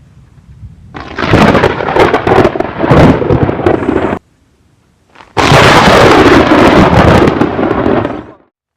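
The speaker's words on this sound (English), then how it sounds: "That was a pretty good storm." Loud, close thunder from a storm rolling over in Cambodia, two long rumbling roars with heavy crackling, split by a short near-silent gap, with rain hiss underneath.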